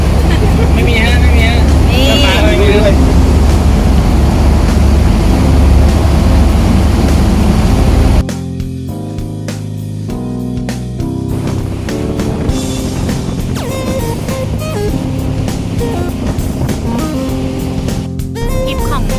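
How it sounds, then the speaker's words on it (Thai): A low, steady boat engine drones loudly, then drops off and continues at a quieter rumble with intermittent clanks and someone talking over it. "เรากำลังจะถอย เรือเข้าสู่ที่จอดนะคะทุกคน"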